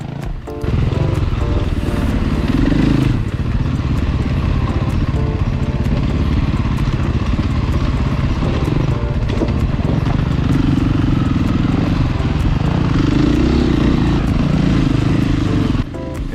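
Enduro motorcycles ride a rocky trail, engines droning loud and close throughout with revving surges and rattling, continuous from start to end with no talk.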